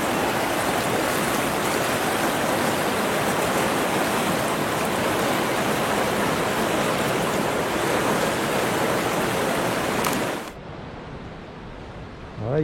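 Fast-flowing spring water at Fontaine de Vaucluse, France, rushes loudly and steadily for about ten seconds, a dense roar that cuts off abruptly to a quieter background.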